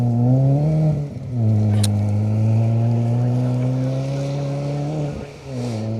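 A Proctor's Coaches Mini rally car on a forest stage at Greystoke Stages, its engine droning steadily with revs rising and dipping through gear changes, loud and close, with no talk.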